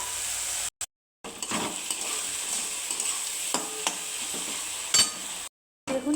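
Pointed gourd with lentils, onion and garlic sizzles in a pan under steady stirring, with a spoon scraping repeatedly against the pan and brief moments of silence in between.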